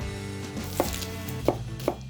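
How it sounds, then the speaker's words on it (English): An onion being chopped on a board, three distinct knife knocks spaced unevenly over a low background hum, close and fairly quiet. "We'll chop up an onion first."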